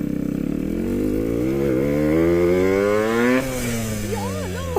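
A Yamaha RX motorcycle engine revs up close and loud, its pitch climbing steadily over several seconds before dropping back, with a rough two-stroke buzz throughout.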